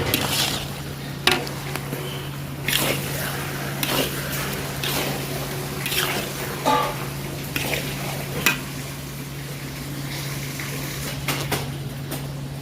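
A spoon stirring ivy gourd and potato curry with coriander-cumin powder and chili powder in a pan, steady soft sizzling with a low hum and intermittent scraping taps against the pot.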